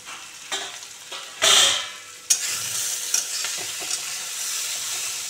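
Pumpkin curry (kumro torka) being stirred in a pan over low gas, with a spoon scraping and clinking against the pan amid a steady soft sizzle, several distinct stirring strokes close by, no talking.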